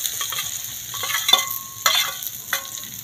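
Sliced onions and green chillies fry in a pan with cumin and fennel seeds, a constant crackling sizzle broken by a few sharp spatula scrapes and knocks against the pan.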